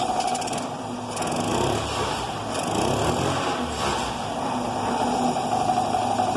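A Honda Cub 50 engine with a freshly cleaned carburetor revs steadily and close by, a continuous buzzing drone that rises slightly and eases off across the clip.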